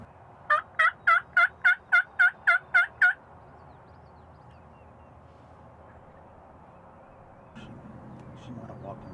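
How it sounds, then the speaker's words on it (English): Wild turkey in a field giving a rapid series of about ten sharp, evenly spaced calls, close and loud, followed by quiet outdoor background and a low rumble near the end. "a hen and a gobbler pitched into the field a few hundred yards from us"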